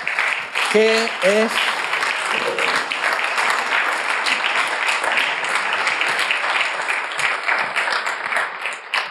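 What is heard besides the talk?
audience applause for the director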